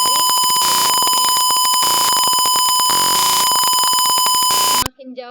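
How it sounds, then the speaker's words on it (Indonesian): A buzzer sounds in a simulated ultrasonic sensor circuit, a loud, steady electronic alarm tone that holds for almost five seconds and then cuts off abruptly, followed by a brief voice. "jika dia terdeteksi dia mengeluarkan suara dari buzzernya"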